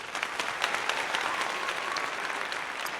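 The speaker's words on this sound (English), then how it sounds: "We even got applause." Applause from a small audience at a football coaching session, a steady wash of clapping at moderate level with no talk over it.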